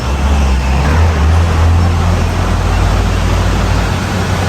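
A vehicle rolls up at a Sikkim border check post, a low continuous engine rumble and road noise that stays close and loud, with no speech.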